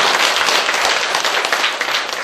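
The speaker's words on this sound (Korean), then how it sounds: "우리 방송국에도 좀 박수 한번 드리세요." Audience clapping at a Buddhist book-launch ceremony, a loud, dense wash of applause close by that continues steadily throughout.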